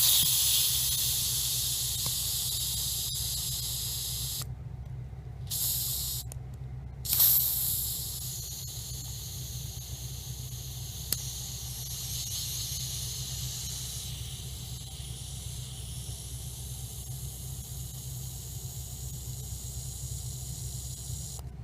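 A Ronson JetLite lighter's fuel valve is pressed to release its pressure. A continuous hiss starts loud and close, briefly drops out twice, then tapers off into a softer, lingering hiss.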